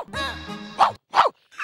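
A voice imitating a dog, a drawn-out whining bark followed by two short sharp yelps and a final clipped bark, close and loud on a comedy stage.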